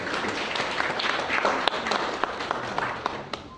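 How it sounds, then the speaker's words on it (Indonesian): Applause at an office halal bihalal gathering held by PT Surveyor Indonesia, steady crowd clapping filling the room with a few sharper individual claps standing out throughout. "Tepuk tangan."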